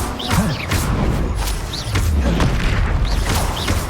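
A fire spell cast in Hogwarts Legacy, a loud booming whoosh with thudding bursts and swirling magical effects, close and forceful, no speech.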